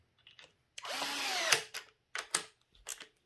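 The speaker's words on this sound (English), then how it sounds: "we'll do the final torque with a screwdriver" A power screwdriver doing final torque on parts of an MCD XR5 RC car, giving one short close whir followed by a few light clicks and taps.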